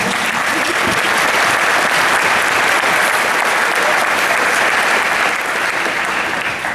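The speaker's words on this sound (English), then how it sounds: "Let's give them a round of applause." Loud, dense applause from a high school graduation audience, sustained clapping from a large crowd that continues without pause throughout, with faint voices mixed in.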